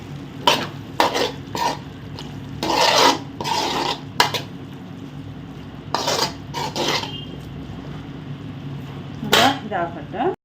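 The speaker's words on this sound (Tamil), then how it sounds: "கொஞ்சோண்டு மஞ்சள் தூள் போடுறேன் அடுத்தது கரம் மசாலா தூள் இப்போ நல்லா மிக்ஸ் பண்ணிடுறோம்" Turmeric and garam masala powder being stirred into a curry in a pan, heard as repeated close scraping sweeps of a spoon against the metal in irregular bursts, with a light sizzle between strokes.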